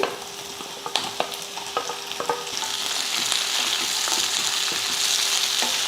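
Onion, garlic and tomato sauté in a pan for a chutney. A few sharp spatula clicks come first, then a steady, close sizzle builds and holds.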